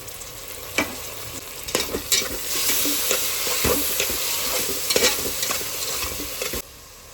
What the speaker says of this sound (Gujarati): અને હવે ત્યારબાદ જો હું ટમાટર નાખી દઈશ.